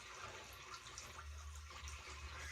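Running water rinses shaving lather off a face in a steady, soft, continuous splash and gurgle, fairly faint, with no speech.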